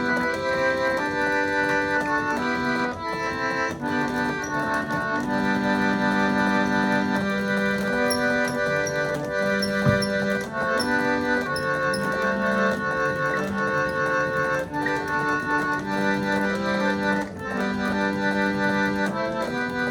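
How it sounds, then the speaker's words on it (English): A hand-cranked reed organette plays a steady reedy tune from a pinned cob roller, with sustained notes and chords moving along at an even pace for twenty seconds. It is clear and close, with no voices. "the air passes through and passes a reed and produces a sound, and it sounds like this."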